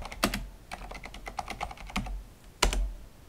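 Command typed on a computer keyboard, a close run of crisp key clicks in uneven bursts with a few louder strikes, likely the spacebar or enter key, and no voices.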